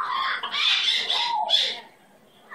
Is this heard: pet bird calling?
yes